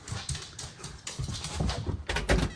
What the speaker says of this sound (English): Are you coming, dog?